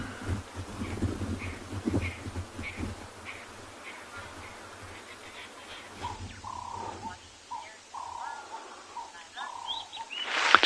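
A bird calls during a sunrise safari, giving a series of short repeated chirps over a faint natural background, with a brief burst of louder calls at the very end; a voice murmurs briefly near the start.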